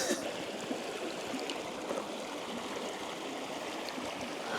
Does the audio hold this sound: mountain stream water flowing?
yes